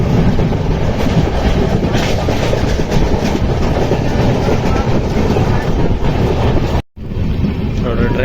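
Panchaganga Express (train 16595) pulling into Byndoor Mookambika Road station on the Konkan Railway: a steady, loud rumble of rolling wagons with wind buffeting the microphone, broken by a brief dropout near the end.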